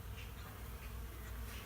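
Bees forage on kiwi flowers, giving a faint, steady insect buzz against a low outdoor background.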